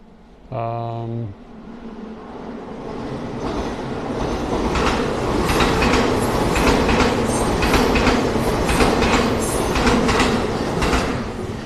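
A brief horn-like tone, then a train rumbles and clatters past close by, its rhythmic wheel noise building and holding steady.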